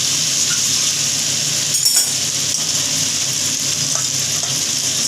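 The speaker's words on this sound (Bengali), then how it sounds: "এর মধ্যে আমরা মাছটা এবার আস্তে আস্তে মিশিয়ে দেবো।" Fish is stirred into a frying spice mixture in a pan, giving a steady close sizzle with faint scraping and clinks throughout, no talking.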